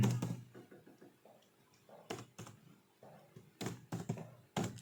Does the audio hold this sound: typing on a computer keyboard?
yes